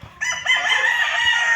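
Roosters crow loudly and close at a chicken farm, one long sustained cock-a-doodle-doo rising over faint clucking from other fowl.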